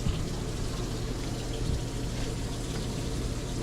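Hot water runs steadily from a heater aboard a converted bus, a soft continuous rushing and trickling close by with a faint low hum underneath and no talking.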